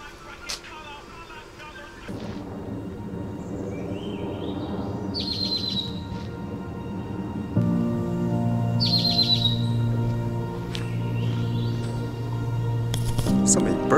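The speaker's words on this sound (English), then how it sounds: "So many bird sounds here." Birds chirp in quick bright bursts over a steady background hum and talking voices, with a couple of clear tweeting phrases rising above the mix.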